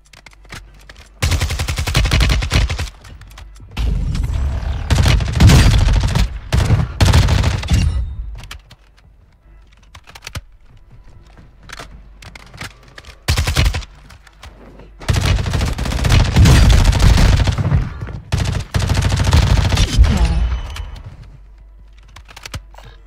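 Gunfire in a first-person shooter match on the Vondel map, loud bursts of rapid shots in two long volleys separated by quieter gaps, with keyboard clicking mixed in.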